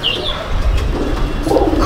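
A female golden pigeon coos close and loud in a brief throaty burst against a busy, noisy background.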